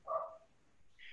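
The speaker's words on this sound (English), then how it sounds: "Sorry about the dog." A dog barks once or twice somewhere indoors, a short muffled burst at moderate volume that quickly fades into quiet room tone.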